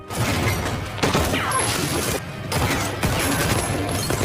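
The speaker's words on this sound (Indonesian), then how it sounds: "Baku tembak pun terjadi" Rapid volleys of gunfire crackle back and forth, loud and dense, with sharp bursts overlapping and brief lulls between them.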